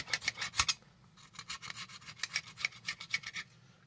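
A sharpened chisel scrapes old foam off a Boston Acoustics A-120 passive radiator in rapid, rhythmic rasping strokes, close and fairly quiet, with a brief pause partway through.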